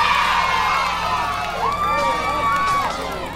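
Concert crowd cheering for SB19, a dense wash of shouting and screams at steady loudness with a few sustained whistles rising over it, continuous throughout.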